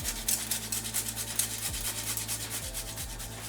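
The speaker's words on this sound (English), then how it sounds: "I'm also going to go in and grate some fresh nutmeg." Fresh whole nutmeg scraped against a grater for a sweet milk dessert, giving quiet, rapid, rhythmic rasping strokes that repeat evenly and close by, with no voices.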